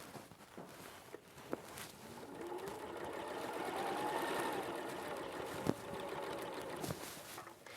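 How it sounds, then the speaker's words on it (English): A domestic sewing machine runs steadily, stitching a cushion panel for a quilt-style cushion, a continuous close whir with a few sharp clicks and knocks scattered through the run. "I'm just going to sew this one up for you, and then we'll sew it all together"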